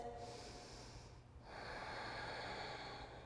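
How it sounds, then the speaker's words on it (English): A single slow, deep breath is drawn in and then let out during a quiet Hatha yoga practice: a soft, airy inhale followed by a longer, breathy exhale, close and faint, with no talking. "We'll take one more deep breath just like this."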